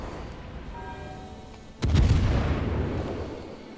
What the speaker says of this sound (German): Unsere Harakase nebelt sich und fängt an zu schießen.